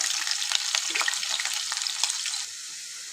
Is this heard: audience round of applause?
no